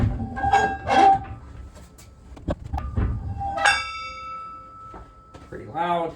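An iron weight plate slides onto a barbell with metallic clanks and ringing, resonant hits, close by and interleaved with someone talking.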